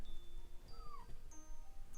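A cat gives a few soft, faint meows and a short high squeak against a quiet room background.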